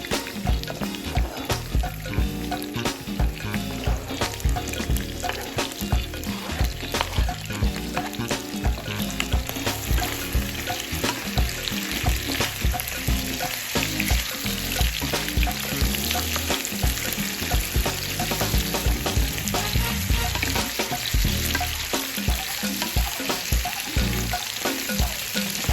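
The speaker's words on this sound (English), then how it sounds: "I'm going to add my potatoes and onions. And we'll start those cooking" Potatoes and onions fry in a pan with a loud, continuous crackling sizzle, close up, steady throughout with frequent sharp pops and occasional stirring scrapes.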